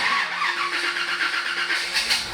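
A 1956 Chevy Nomad's engine runs loud and close, a steady rough rumble with slight pulsing that swells near the end, with no voices over it.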